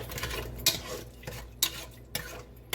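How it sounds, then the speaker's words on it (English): A spoon stirs a strawberry mixture in a bowl for a dessert, with rhythmic scraping strokes and sharp clinks against the side about once every second, close by and without talking. "So I'm going to stir this up."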